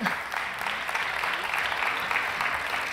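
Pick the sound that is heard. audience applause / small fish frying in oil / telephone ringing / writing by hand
audience applause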